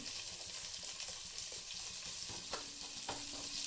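Crushed garlic and onion sizzle in a pan while being stirred, a steady close frying hiss with a few scraping strokes of the spoon near the end.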